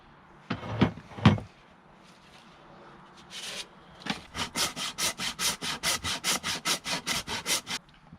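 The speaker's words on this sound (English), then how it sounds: "The kerf has only been sawn to about halfway down the axe head. I think ideally you want about 3/4 down" A hand saw cuts deeper into the kerf of a wooden axe handle, with a couple of sharp knocks first, then a steady run of rhythmic, rasping back-and-forth strokes, close and clear.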